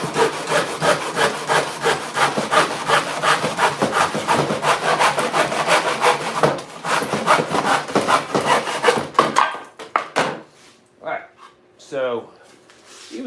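A handsaw cuts wood for a birdhouse in fast, steady back-and-forth strokes, loud and close, and the sawing thins out near the end as a voice begins speaking.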